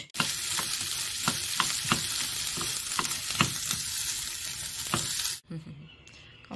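Vegetables frying in a pan for a packed school lunch, with a steady close sizzle and repeated sharp scraping clicks of a utensil stirring, until the sizzle cuts off abruptly near the end, leaving quieter kitchen sounds.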